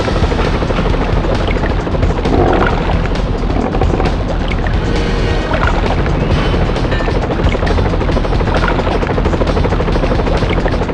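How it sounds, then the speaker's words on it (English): Helicopters and gunfire in the PS1 video game 007 The World Is Not Enough: loud, continuous rotor thrum mixed with dense bursts of shots, crashes and booms throughout, with no talking. "use your rocket launcher to take down the helicopters"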